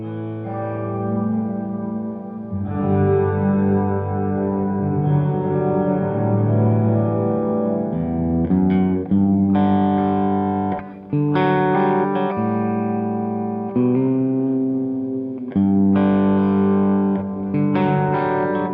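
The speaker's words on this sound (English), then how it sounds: "here's another reverb that I want to show you. Acon Digital Reverb Solo." Acon Digital Reverb Solo plugin reverb set to a small, bright space, turned all the way up on a sustained harmonic musical passage, dense and continuous with a short room tail throughout.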